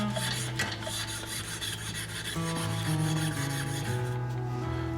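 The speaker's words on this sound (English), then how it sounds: "So this brake cable here has some surface rust on it. Grab some steel wool." Steel wool rubbing surface rust off a Trek Navigator 200 bike's brake cable, a steady close scratchy rasping that continues throughout with slight shifts in pitch.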